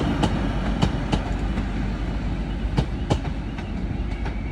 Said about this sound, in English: that's 185 145 arriving in from